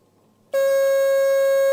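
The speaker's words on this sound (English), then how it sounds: "I hear a bell ringing" A loud, steady electronic bell tone at a school quiz competition starts abruptly after half a second of near silence and holds on continuously without pause.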